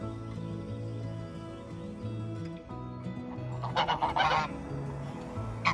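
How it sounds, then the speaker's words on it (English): Geese and other waterfowl honk along a walking route in rural France, a dense chorus of repeated nasal honks at moderate distance, growing into a busier burst of calls partway through. "There was a lot of waterfowl on the way to the second spot I want to highlight."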